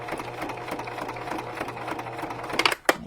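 Sewing machine stitching through a glued junk journal cover, a steady close mechanical whir with fast needle taps, ending in a few sharp clunks.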